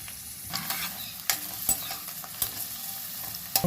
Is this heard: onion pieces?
yes